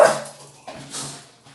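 A female dog gives one short, sharp bark or yelp at the very start indoors, then only faint room noise follows.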